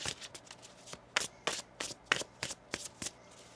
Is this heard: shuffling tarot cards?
yes